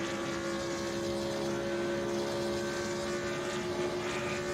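A race car engine in a racing video game drones steadily along the Monza front straight, a sustained, even tonal hum with no shifts, heard alone at moderate level.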